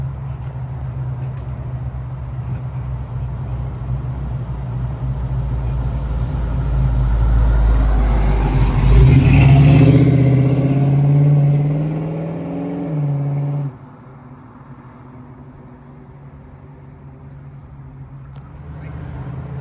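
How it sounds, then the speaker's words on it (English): A 1951 Chevrolet 3100 pickup truck's engine rumbles closer, grows loudest as it passes nearby, then drops away as it drives off. "Here comes a 51 Chevy pickup right at me here."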